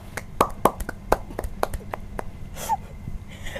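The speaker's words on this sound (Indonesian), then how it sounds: "Tepuk tangan dulu, Bang." A few scattered hand claps, sharp and close, ring out in an uneven burst before fading into quiet room noise.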